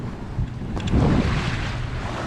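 Wind rushes past the microphone aboard a Pearson 26 sailboat on a broad reach, with water washing along the hull in a loud steady whoosh that swells briefly midway.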